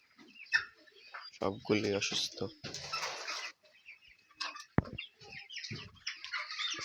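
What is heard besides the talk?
chickens clucking in a poultry farm shed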